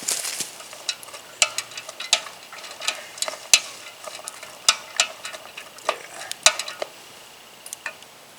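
Chopped onion sautés in a pan for chicken cacciatore, a faint sizzle beneath a steady run of close, sharp clicks and scrapes from a utensil stirring against the pan, with no voices.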